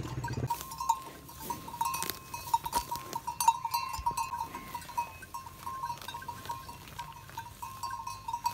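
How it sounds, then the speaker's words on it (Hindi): Water buffaloes at milking time on a farm fill the air with intermittent bleating calls and snorts, mid-distance, over a steady background hum and scattered clatter, with no one speaking. "ये हमारी भैंस जो बहुत ज़्यादा दूध देती है"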